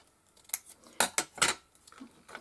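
A pair of scissors cuts an art-supply item in two with a handful of crisp, close snips and a light metallic click, spaced irregularly in a quiet room.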